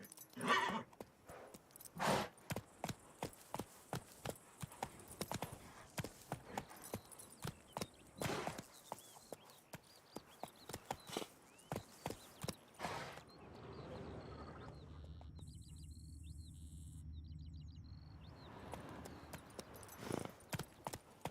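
Roach the horse in The Witcher 3 galloping: rapid rhythmic hoofbeats pound for about thirteen seconds, then give way to softer movement and a whinny, close and clear.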